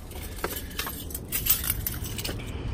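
Car keys jingle and clink in a light metallic rattle, fairly close, shaken in short irregular bursts over a low background hum.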